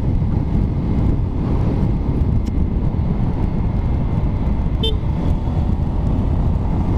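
Honda GTR150 motorcycle engine running steadily, a continuous low rumble that stays loud and even throughout, with a brief higher tone near the end.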